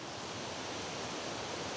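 River water near Ruskebe Waterfall in Kenya rushes in a dense, steady roar, continuous and fairly loud, with no voices over it.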